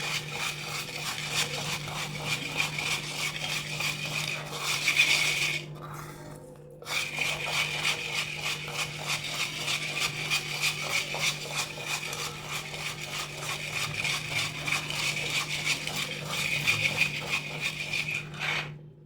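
Small sardines being scrubbed and washed with salt in a pan, a continuous gritty rasping and rubbing that runs steadily for the whole stretch, with one brief pause midway.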